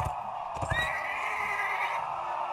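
Horse neighing in the game Mount & Blade Warband: a single rising, whinnying call near the start, heard over a steady background hum with a few thuds, moderately loud and without talk.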